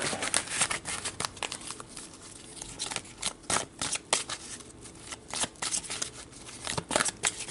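Tarot cards shuffled by hand during a love reading, a quick series of papery riffles and flicks in uneven bursts, close and fairly soft, with no talking.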